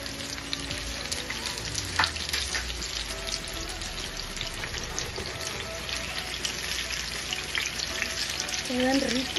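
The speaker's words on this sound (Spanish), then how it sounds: "Ahora le voy a agregar los huevos." Eggs fry in a pan with onion rings, producing a steady crackling sizzle throughout with small spattering pops and a brief scrape near the end.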